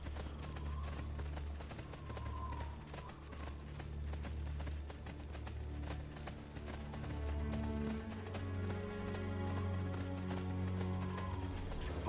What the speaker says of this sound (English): My horse following me? It is.